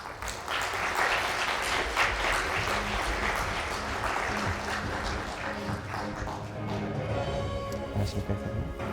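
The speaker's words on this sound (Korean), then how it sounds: "여러분 다시 한번 큰 박수 부탁드립니다" An audience in a hall at a Korean disability employment agency's results-sharing event gives a big round of applause, dense clapping that fades after about six seconds as a voice and background murmur take over.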